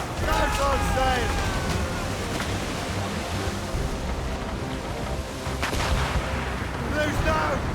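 Ship cannons boom in a naval battle in the video game Assassin's Creed Rogue, with heavy blasts and crashing impacts over rushing sea and wind, while shouted voices and crew cries sound throughout.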